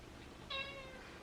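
A cat lets out a single short, clear meow close to the microphone in a quiet indoor room, with no talking around it.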